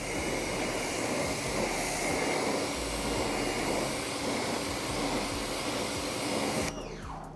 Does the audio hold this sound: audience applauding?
no